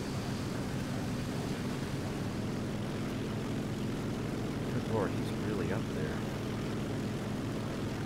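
A Focke-Wulf Fw 190 propeller fighter in War Thunder arcade battles drones steadily, while someone talks briefly over the engine noise partway through.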